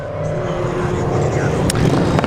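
Several cars race around the Levante Circuit track, their engines a steady, loud drone of revving at mid distance with a brief sharper burst near the end.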